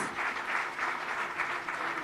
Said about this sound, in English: The Honorable Governor will now felicitate Dr. Ashish Kumar amidst a big round of resonating applause